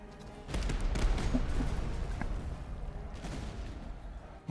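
Massed musket volleys from light infantry and dragoons in the Master of Command strategy game crackle in a dense burst of overlapping shots, then fade into a lingering rumble with a few scattered reports.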